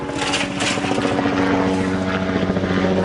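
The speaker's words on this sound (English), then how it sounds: "Chopper flying by, don't usually get them around here." Helicopter passing overhead in a quiet yard, a steady droning rotor and engine hum that stays loud and even for a few seconds with no voices.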